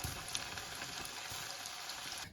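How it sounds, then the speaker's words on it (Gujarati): Paneer cubes frying in hot oil over medium heat for Indo-Chinese chilli paneer, a steady dense sizzle with fine crackles and pops running throughout, fairly quiet, with no talking. "હવે આપણે આમાં પનીરને ફ્રાય કરી લઈશું."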